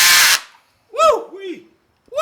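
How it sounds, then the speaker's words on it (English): A power drill drives screws into a massive winter house for a Galapagos tortoise, giving one short, loud whir before cutting off, followed by excited whooping voices. "we're going to drill this in and get this tortoise home complete"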